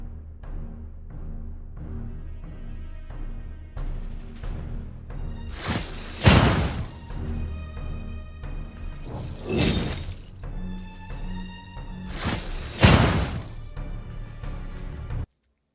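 Game-style icy spell effects, a cryo pillar and cryo cone, sharp shattering crashes with glassy shimmering tails, burst out three times over a steady bed of music.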